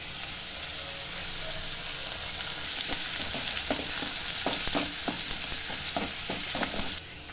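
Curry leaves and finely chopped onion fry in hot oil, a steady close sizzle with a run of soft scraping stirs in the second half before it drops off.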